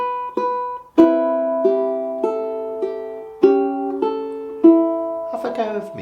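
Fingerstyle ukulele picks out one instrumental measure of a song: clear plucked notes ringing in a steady, unhurried pattern, each attack decaying into the next, close and alone, with a quick strummed flourish at the end.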